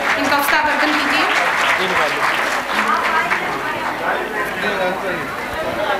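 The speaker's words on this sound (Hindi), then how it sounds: "तालियों से इनका उत्साहवर्धन कीजिए" Audience applause at a school annual function, steady clapping from a crowd with voices and chatter mixed in underneath, continuing at an even level throughout.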